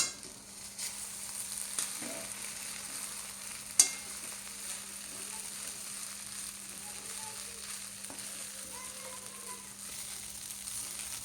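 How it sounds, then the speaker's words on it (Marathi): Khichdi being stirred and mixed in a pan, a faint steady background hiss with occasional soft scrapes and one sharp clink. "आता हे चांगल्या पद्धतीने असं मिक्स करून घ्यायचं."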